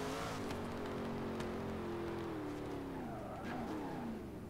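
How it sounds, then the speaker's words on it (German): A car drifts sideways in a racing video game, its tires squealing in long, wavering tones over a steady engine drone, loud and close throughout, with no voices. "Ich versuche ein wenig quer zu fahren"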